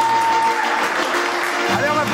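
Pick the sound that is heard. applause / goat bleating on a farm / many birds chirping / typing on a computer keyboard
applause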